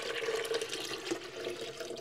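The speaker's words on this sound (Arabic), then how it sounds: "عندي هون كوبين من المي الباردة جداً" Very cold water poured into a cup for homemade fresh lemon juice with mint, a steady close splashing and trickling stream running without pause.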